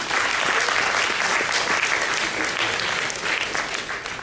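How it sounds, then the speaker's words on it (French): Audience applause at the opening speeches of a conference on the economic value of intangible heritage: dense, steady clapping from a large hall crowd, fairly loud and continuous throughout, with no talking over it. "Je pense que ça mérite qu'on l'applaudisse."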